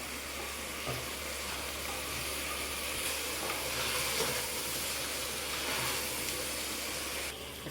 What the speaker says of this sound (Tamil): காயெல்லாம் நல்லா வதங்கிடுச்சு